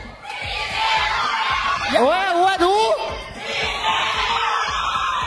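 A high school pageant audience shouts and cheers in a continuous crowd roar, with a rising whoop rising above the din midway and a voice briefly speaking.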